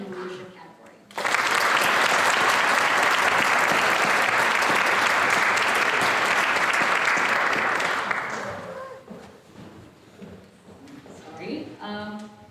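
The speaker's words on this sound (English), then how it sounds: "Please join me in applauding Jocelyn Rojas James for being nominated in the leadership category." An audience at a county youth awards ceremony bursts into loud, steady applause for a nominee, holding for about seven seconds before fading into quieter room sounds and brief speech.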